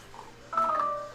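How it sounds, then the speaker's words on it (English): A mobile phone gives a short electronic tone over a low background hum, a faint beep first, then a brighter, steadier sustained chime that fades out. "That was my phone."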